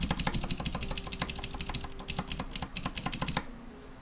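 Fast, steady typing on the tactile switches of an Akko 5075B mechanical keyboard, close and muted keystrokes in a dense rhythm that stops abruptly.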